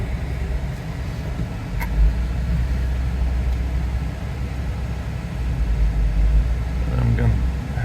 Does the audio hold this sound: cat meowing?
no